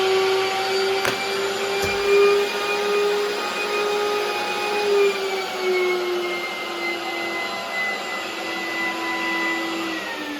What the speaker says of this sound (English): It's kind of loud. The vacuum machine.